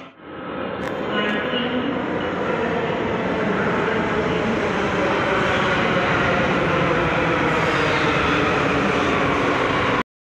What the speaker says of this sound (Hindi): आ चुकी है मेट्रो,